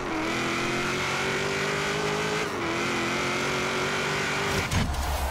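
A car in Forza Horizon 3 accelerates at full throttle, its engine holding a strained, steady whine with a brief dip before a gear change and renewed roar near the end.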